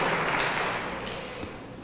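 A church congregation applauds, a broad, even wash of many hands clapping that gradually softens toward the end.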